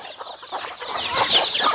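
Chickens cluck and chatter on a small farm where ducks and chickens are raised, several hens calling in quick overlapping bursts at close range with no talk.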